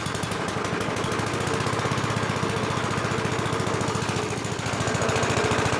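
A 1965 Gravely walk-behind tractor engine runs roughly, its rapid chugging pulse loud and close throughout, with a slight dip and recovery near the end.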